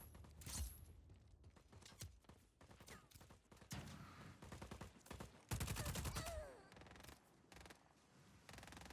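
Rapid gunfire in Just Cause 4, with dense bursts of automatic shots and scattered single cracks coming from several directions, plus mechanical clatter and a whooshing laser-like sweep, fairly close and loud throughout.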